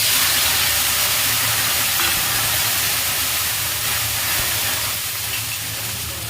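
Water hitting hot oil tempered with cumin seeds bursts into a loud, rushing steam hiss that stays strong and slowly eases off.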